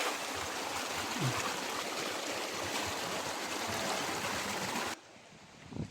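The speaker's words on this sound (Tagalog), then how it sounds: "May nag-uumpisa nang magpakita sa amin na katubigan na nanggagaling sa taas." A mountain stream flowing down toward a waterfall, a steady broadband rush of water for most of the clip that drops abruptly to a quieter murmur near the end.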